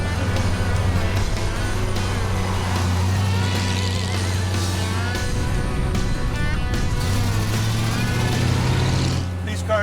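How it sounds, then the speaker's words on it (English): A 1932 Ford four-door hot rod with a quick-change rear end and scavenger exhaust pipes gives a loud, steady engine drone and gear howl that echoes inside the cabin, with people talking over it throughout. "The quick change howling and the scavenger pipes down there echoing back in here."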